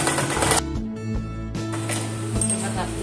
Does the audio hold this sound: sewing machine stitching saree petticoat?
yes